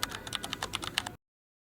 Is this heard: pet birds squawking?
no